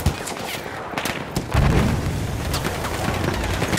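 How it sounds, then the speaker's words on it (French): Grenade blast amid battlefield gunfire in Battlefield 1 on a Verdun heights map, a loud booming explosion breaking through ongoing rapid shots and distant bangs. "Je lance une grenade"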